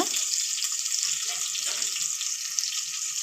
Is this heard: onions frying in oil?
yes